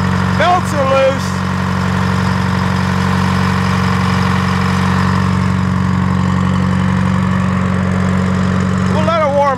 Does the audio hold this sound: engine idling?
yes